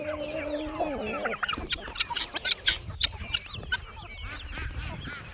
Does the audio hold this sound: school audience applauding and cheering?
no